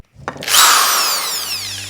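An electric drill spins up after a brief knock, whining loudly at high speed and holding a steady, gradually easing pitch close by.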